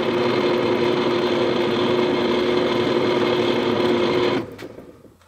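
A small power drill bores into the side of a small wooden easel piece, running loud and steady for about four seconds before stopping abruptly.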